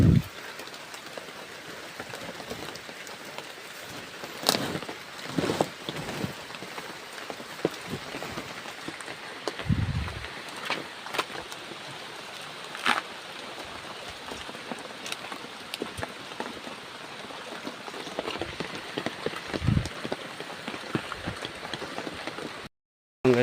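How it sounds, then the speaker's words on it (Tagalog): Steady rain patters on a surface in the mountains throughout, with a few louder drips and low knocks scattered across it. "Umuulan."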